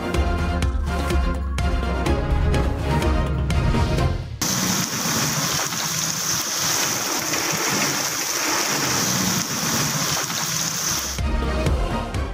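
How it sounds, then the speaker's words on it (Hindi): Heavy rain pours steadily on a Lahore street, a dense continuous roar filling the scene, with a louder rumbling stretch at the start and end that may be thunder or music. "लाहौर में दूसरे रोज फिर तेज बारिश।"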